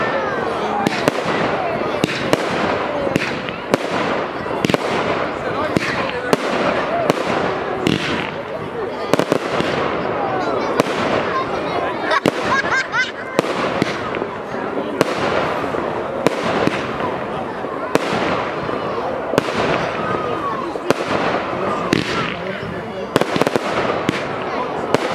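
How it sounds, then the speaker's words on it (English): Fireworks display on fireworks night, a continuous barrage of cracking and booming bursts with sharp firecracker pops, loud throughout, with crowd voices mixed underneath. "Okay, so I'll insert some of the fireworks now."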